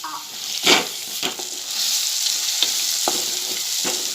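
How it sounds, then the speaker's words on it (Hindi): Dried bombil fish frying in a pan with onion, tomato and green chili, a steady close sizzle broken by several sharp scraping stirs. "अब मैं इसमें ये सूखे हुए बोम्बिल डालकर इसे मैं थोड़ा टाइम फ्राई करूँगी"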